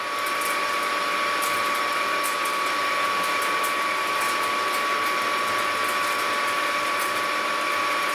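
A metal lathe turning slowly at about 300 RPM, taking a 40-thou cut on a steel part for a hydraulic press, produces a steady whine with a constant tone and a faint scraping hiss throughout, with no talking.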